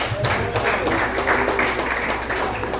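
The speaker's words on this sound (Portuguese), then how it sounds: "As palmas glorificam o nome do Senhor" Church congregation applauding in worship, with a steady patter of many hands clapping together over a low background hum, at moderate loudness.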